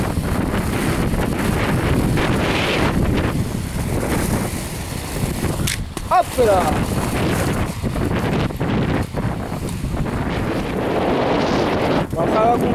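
Wind rushing past the microphone while roller skating along roads near Champs-sur-Marne, a steady loud blustery roar throughout, with someone talking under it.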